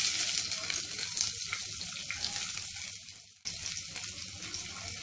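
A finely chopped medium onion hits oil with roasted cumin for a turai and chana dal sabzi, giving a steady, close, hissing sizzle that briefly fades then jumps back at full strength.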